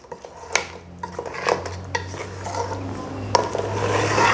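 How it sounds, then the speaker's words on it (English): A spoon clinks and scrapes around a pot of panang curry with short rib and palm sugar, giving several sharp metallic taps and rubbing strokes over a steady low hum, close and fairly quiet. "See how I'm stirring it"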